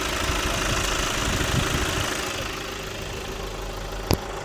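An MG Majestor 4x4 diesel SUV engine idles steadily up close, a dense rumbling hum with a faint rhythmic knock, and a brief click near the end.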